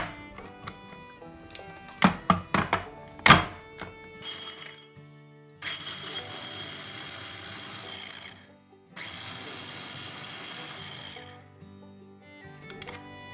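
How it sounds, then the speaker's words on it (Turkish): Food processor grinding hazelnuts in two sustained whirring runs, close and fairly loud, preceded by sharp clattering knocks as the machine is set up and followed by a quieter tail. "Fındığımızı güzelce robotumuzla çekelim."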